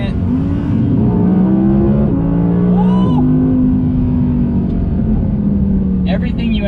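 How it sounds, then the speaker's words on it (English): A 2020 Audi R8 V10 shifts its dual-clutch transmission through quick downshifts and then accelerates, the engine note dropping and climbing in sharp steps from inside the cabin, while someone talks over it. "Now you can hear just how quick that dual clutch transmission is shifting."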